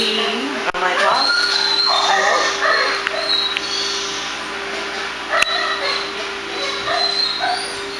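A dog being groomed, its ears blow-dried at the end of a grooming session, gives short barks and whimpers at close range, mixed with a running blow dryer hum and a person talking nearby.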